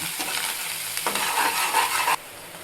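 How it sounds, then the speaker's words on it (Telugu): Chopped onion and tomato frying in a pan while being stirred for an Indian paneer curry, a continuous hissing sizzle with scraping stir strokes, close and loud, cutting off abruptly near the end. "ఇప్పుడైతే దీన్ని మనం వేయించుకుందామండి, పచ్చి వాసన పోయించేదాకా వేయించుకుందాం ఇలాగా."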